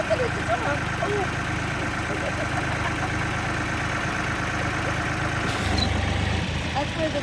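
Kioti CK3510 tractor engine idling steadily with a low, continuous mechanical rumble, moderately close, while people talk over it.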